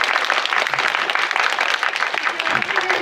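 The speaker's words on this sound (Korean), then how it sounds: "큰 박수 부탁드리고요." A film screening audience bursts into dense, steady applause that fills the room for the full three seconds, with no pause or break in the clapping.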